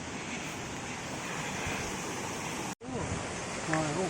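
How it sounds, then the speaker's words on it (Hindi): Jogini waterfall near Manali crashing down from high above, a steady broadband roar of falling water heard up close, with wind buffeting the microphone and a brief dropout before a voice talks over the rush. "काफ़ी ऊपर से आ रहा है ये वाटरफॉल"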